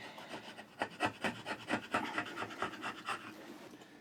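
A carving gouge shaves through a piece of hardwood in a quick series of short rasping cuts. The strokes are close and fairly quiet, with no voices.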